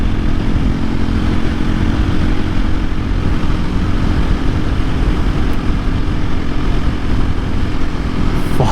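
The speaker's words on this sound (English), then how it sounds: "the engine, I'm very happy how smooth the engine is" A 2024 KTM EXC-F 500 Six Days dual sport motorcycle being ridden, its single-cylinder engine droning steadily with loud, continuous low rumble and wind noise, close to the rider.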